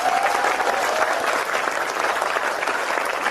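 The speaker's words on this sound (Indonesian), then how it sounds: "Untuk tepuk tangan." Steady applause from an audience at a humorous Islamic lecture, a dense continuous clatter of many hands filling the room at an even level throughout.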